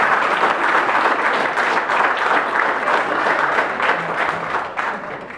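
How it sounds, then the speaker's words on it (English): An audience applauds a couple at an evening dance event, a dense, steady wash of clapping that holds loud throughout and tapers slightly near the end. "Let's give a round of applause for Mr."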